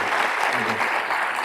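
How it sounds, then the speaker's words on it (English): Audience applause at a memorial lecture hall, a brief burst of dense clapping from a large crowd, steady and moderately loud, with a voice faintly audible underneath. "Ladies and gentlemen, give a big round of applause for the"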